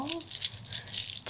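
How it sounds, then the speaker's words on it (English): Seashells rattled during a Reiki sound healing session, a dense, continuous shaking rattle throughout with brief pulses of louder clatter, close and steady. "we're going to use the sound of these shells"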